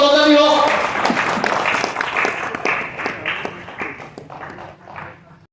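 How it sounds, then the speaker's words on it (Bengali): An audience at an annual conference gives applause. A loud burst of many hands opens the clip, then it thins into scattered individual claps and fades out, with a brief voice at the very start. "একটু জোরে করতালি হোক।"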